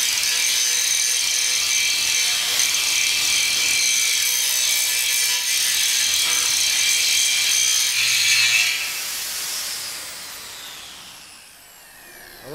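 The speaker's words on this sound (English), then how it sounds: "Can you grind this well down?" An angle grinder grinds down welds on a barrel tank being turned into a barbecue, a loud, steady high-pitched abrasive whine close by for about nine seconds before spinning down and fading.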